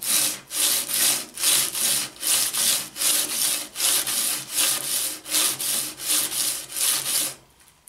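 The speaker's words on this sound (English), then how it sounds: "Once again, we make our 10 passes on the sandpaper." A jointer knife clamped in a sharpening jig is rubbed back and forth across sandpaper in about a dozen even, rhythmic rasping strokes, close and loud, ending abruptly.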